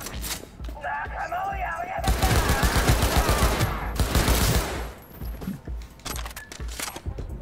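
Automatic gunfire with heavy recoil in Cyberpunk 2077 on PS4: a loud, close, rapid burst lasting about three seconds, set between quieter in-game sounds.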